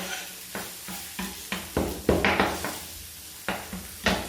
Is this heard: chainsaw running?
no